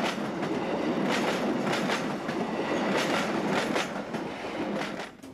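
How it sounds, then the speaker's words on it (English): A new GE44S locomotive hauls a Montreux-bound Swiss train past an island platform, with steady loud rumbling and rhythmic clickety-clack of wheels over rail joints, fading slightly at the end. "This new GE44S heads a Montreux-bound train past the island platform."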